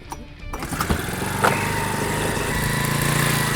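A small outboard motor on a micro skiff sputters and catches, then runs steadily with a buzzing, droning hum that holds close and loud.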